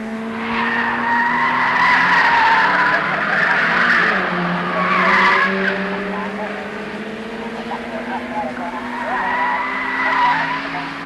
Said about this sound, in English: The leader is still pushing hard, continually lapping the smaller cars, but Digby Cook and Colin Bond are never far